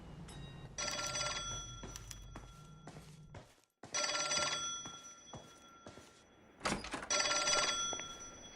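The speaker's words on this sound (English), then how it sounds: "Can you imagine how fucking obnoxious it would be to hear everyone's phone from down the hallway?" An old-fashioned telephone bell rings in the LA Noire video game, repeated trilling bursts separated by short pauses, a couple of rings sounding from slightly different spots as if along an office hallway, with no talking.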